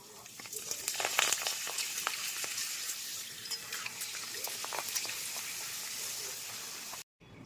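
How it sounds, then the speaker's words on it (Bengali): Papad crackles and fries in hot oil in a wok, a continuous busy sizzle with faint crisp pops throughout, cutting off abruptly near the end. "এবার কড়াইতে তেল দিয়ে"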